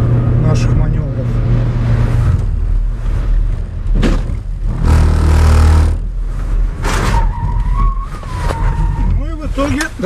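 A car drives with winter tyres on its front axle, engine and road noise rising and falling as it maneuvers, with someone speaking over it.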